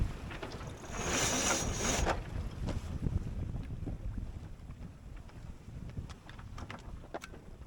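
A Grand Soleil 44 sailboat tacking under sail, with a strong gust of wind rushing over the microphone and steady water and hull noise around it, close and continuous.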